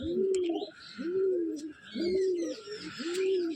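Pigeons, including a female of the 8-7 line, coo close by in four evenly spaced, rolling calls, with faint chirps in the background.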